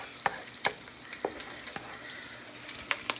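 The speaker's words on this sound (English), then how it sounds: "here's our egg on the stove. Gotta kinda fluff it up a little bit." An egg frying in a pan on the stove while being fluffed, a constant close sizzle broken by regular sharp scrapes and taps of the utensil against the pan, with no talking.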